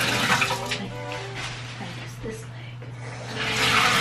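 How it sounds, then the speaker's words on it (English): Water runs steadily into a bathtub as shaving powder is rinsed off skin, a continuous hiss under a person talking throughout. "I'm actually just gonna rinse this stuff off in the bathtub real quick"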